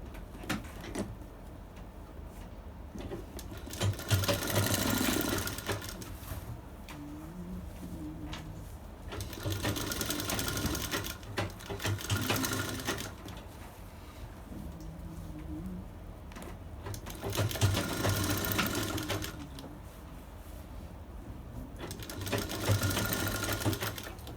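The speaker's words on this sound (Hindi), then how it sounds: "अब इसकी गोलाई की सिलाई लगेगी।" A sewing machine stitches the curved edge of a bridal sharara in several long runs separated by short pauses, steady and close with a light mechanical clatter.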